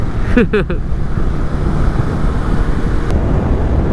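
Strong wind roars steadily into the microphone while riding a Honda Rebel 500 motorcycle on a long-distance ride, a dense constant rush throughout, with a brief voice-like sound near the start.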